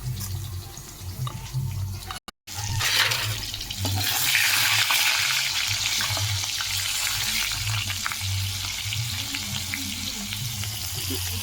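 Potatoes fry in a pan with a steady hiss and crackle of sizzling oil, close by, after a brief gap near the start, with a low background hum and no clear talking.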